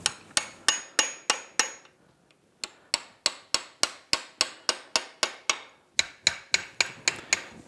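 Tabs on locking washers are tapped up during a Yamaha Raptor 700R engine build, giving sharp, close metallic hammer taps in quick, even bursts with one short pause between runs.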